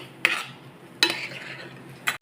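Soaked sago for kheer is stirred and roasted in a pan, with three sharp scraping strokes of a spoon against the metal, each followed by a soft rustle, in a quiet kitchen.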